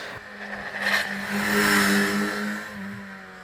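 A Kawasaki Z1100 motorcycle engine runs close and steady, its tone rising into a throaty rev through the middle before easing back slightly, with no talking.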